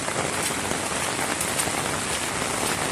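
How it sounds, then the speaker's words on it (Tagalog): Steady rain falls hard, a continuous, even wash of noise across the full length with no voices or other sounds standing out. "Maulan, maulan."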